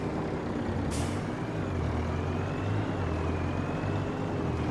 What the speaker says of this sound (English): Let's get a truck out there.